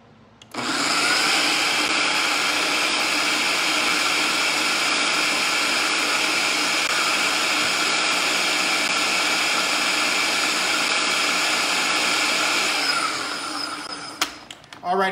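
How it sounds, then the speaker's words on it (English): A blender runs steadily for about twelve seconds, whirring loud and close as it mixes cannoli dough dry ingredients with shortening, then winds down and stops near the end. "I'm gonna go ahead and blend this up first before I add my liquids into it"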